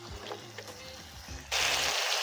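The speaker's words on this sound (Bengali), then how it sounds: "দেখো টমেটোটা ভালো করে মশলার সাথে ভাজা হয়ে যাচ্ছে।" Chopped tomato fries with spices in a pan while a spicy chicken kosha curry is made. A loud, bright sizzle bursts in partway through, after a few low murmurs.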